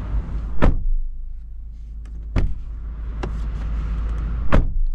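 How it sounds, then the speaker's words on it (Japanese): A Lexus LX570 SUV door thumps shut several times, each a short, heavy, solid close separated by a second or two of quiet cabin ambience, near and loud. "ドア閉めた音聞いてみましょう"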